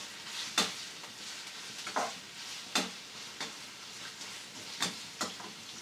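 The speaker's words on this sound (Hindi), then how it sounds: "हाई फ्लेम पे इसे फ्राई करेंगे, चलाएंगे।" Vegetables for veg chow mein stir-fried over a high flame, a steady crackling sizzle broken by sharp scraping and tossing strokes at irregular intervals, close and fairly quiet, with no talk.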